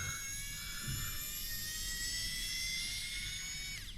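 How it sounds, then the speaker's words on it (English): A small electric screwdriver motor whirs continuously and steadily close to the microphone while backing out screws on an RC car, its pitch climbing slightly near the end, with no talking. "Now I can use the motor function."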